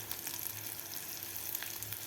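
Asafoetida drops into hot oil with cashews browning in it for a tadka, and a steady, close sizzle hisses throughout with no talk.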